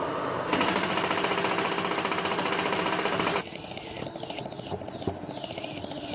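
Nerf Rival minigun firing at full speed, a loud rapid mechanical rattle of fast repeated shots that cuts off abruptly partway, followed by a quieter whirring motor hum.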